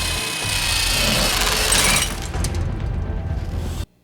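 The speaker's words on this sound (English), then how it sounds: "Sounds like they're drilling." A power drill bores through a floor, a loud grinding, rasping whir that runs steadily, eases to a rougher chattering texture about halfway, then stops abruptly.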